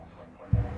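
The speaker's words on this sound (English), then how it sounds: "let's put in the heartbeat" A heartbeat sound effect, two deep low thumps in quick succession, loud and close, after a quiet hum.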